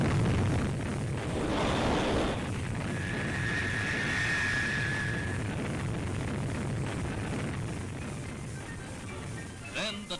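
Thor Delta rocket lifting off at dawn from Cape Canaveral, a sustained loud broadband roar with rumbling low end lasting throughout, fading slightly toward the end.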